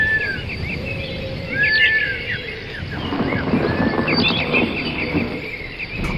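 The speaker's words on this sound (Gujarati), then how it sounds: "પક્ષીઓનો કલરવ થવા લાગ્યો." Scattered bird chirps and short whistled calls ring out over a low ambient hum and insect-like buzz at dawn on Girnar mountain, moderately near, with no talking.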